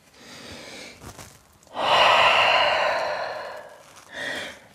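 A deep, audible breath drawn during a dynamic vinyasa yoga session in downward-facing dog, a long breathy rush swelling then fading, followed by a shorter second breath, close and alone.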